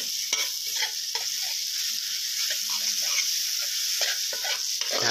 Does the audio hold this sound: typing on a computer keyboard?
no